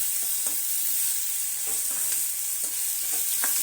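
Onions for tea-stall onion-potato bonda sauté in a pan under a constant bright hiss of hot oil, with intermittent soft scraping strokes of a spatula, close and steady throughout.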